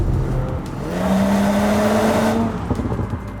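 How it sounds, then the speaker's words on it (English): A 2025 Audi S5 Avant with a V6 engine revs hard while driving, its rising engine note climbing smoothly through an acceleration before easing off, heard close and loud with no talking. "The V6 actually sounds really good."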